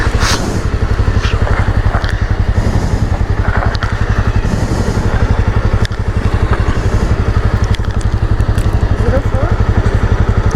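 A motorcycle bike taxi rides through Bengaluru at night, its engine close and pulsing in a rapid, even rhythm with rattling and road noise, while a voice talks over it.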